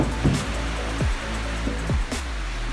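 Heavy rain pours down around a village house, a dense steady hiss of falling water with a few low thuds, no talk heard.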